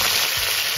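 Nigella seeds sizzling in hot oil make a brief, loud, dense crackling hiss up close, steady throughout with no speech.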